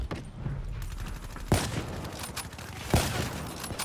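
Black Ops 3 gunfire rattles in a steady stream of rapid shots under a roaring game mix, with two sharper, louder reports standing out partway through, and no talking.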